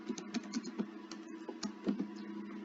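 Quick, light keystrokes tap on a computer keyboard in an irregular run of clicks, close and fairly quiet with no talking.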